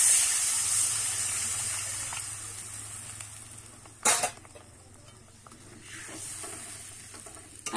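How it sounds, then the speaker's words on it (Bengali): Water being poured into a simmering curry masala in a kadai for matar kofta curry: a steady hiss and sizzle with a brief louder splash partway through, then quieter bubbling close by, with no talking. "এবারে কিন্তু আমি জল দিয়ে দেব।"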